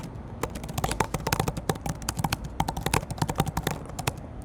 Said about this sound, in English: I'm going to just start typing the next prompt while this is going.